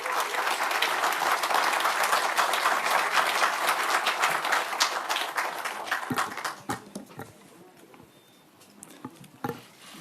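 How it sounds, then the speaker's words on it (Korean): An audience claps for an acceptance speech after a leadership election, loud and dense at first, then thinning around six seconds into scattered individual claps that fade toward the end. "큰 박수 부탁드립니다."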